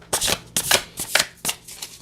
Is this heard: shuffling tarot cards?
yes